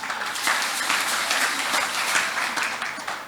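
Worshippers in a church service clap together in a thick, continuous round of applause that holds at a steady level throughout.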